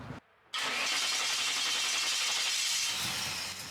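A carbureted truck engine with a rough, poorly tuned idle mixture cranks briefly, then catches and roars to a loud, steady idle that runs on without any talking.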